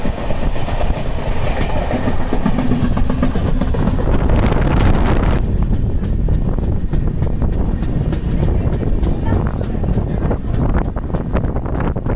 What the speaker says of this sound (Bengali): আর ট্রেনও কিন্তু ছুটে চলেছে দ্রুত গতির সাথে